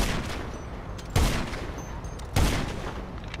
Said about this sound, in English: Why is this kid shooting at me?